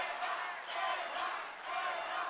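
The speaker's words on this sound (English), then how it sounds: "Crowd definitely cheering for Leija." A crowd at a professional boxing main event cheers for Juan Leija in a steady, dense roar with rising swells, heard at a distance.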